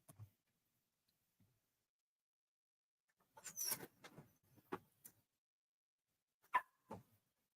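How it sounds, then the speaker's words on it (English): Several dogs bark in a few separate bursts, heard at a moderate distance outdoors in North Memphis, with quiet gaps between the bursts. "Lord, I get so sick of these damn dogs."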